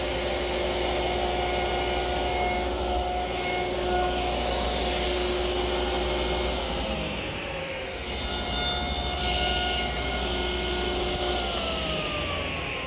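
A table saw cuts a shoulder along the edges of a wooden mailbox cap blank, pushed against the fence, giving a steady loud whine with a slight dip partway through.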